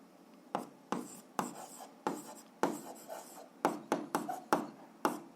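Pen strokes scratch across paper as someone writes an algebra equation by hand, a series of about a dozen short, close, quiet scrapes in uneven bursts.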